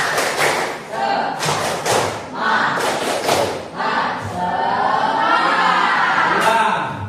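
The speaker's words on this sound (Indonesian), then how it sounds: "Ayo, tepuk semangat" A class of children performs the Indonesian tepuk semangat spirit clap in a classroom, striking quick patterned bursts of claps in a set rhythm, then breaking into shouted chanting voices.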